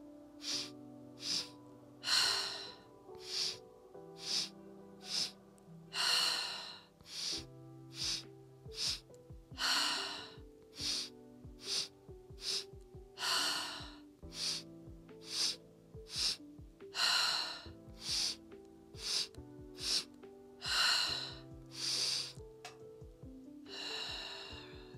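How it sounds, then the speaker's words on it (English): Repeated deep breaths during a short morning yoga flow: sharp breathy inhales alternating with long exhales through the mouth, close and steady, over soft music with sustained tones. "and then exhale through the mouth"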